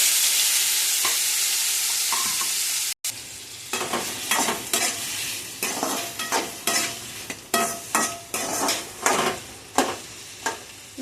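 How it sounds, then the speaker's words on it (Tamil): Onion and tomato frying in a pan for potato kurma, first a loud steady sizzle, then after a brief gap a run of rhythmic spoon stirs and scrapes against the pan, close and with no talking. "நல்லா கிளறி விடுங்க ஃப்ரெண்ட்ஸ்"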